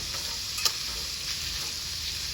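Pastrami cooks in butter on a griddle running a little cold at around 325 degrees, a steady close sizzle with one sharp click or scrape partway through.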